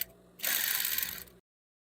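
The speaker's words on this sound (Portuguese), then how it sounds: "Agora, eu vou costurar um com o outro desse jeito" A sewing machine stitches fabric strips together in a brief mechanical whirring run of about a second, close and fairly quiet, then cuts off into silence.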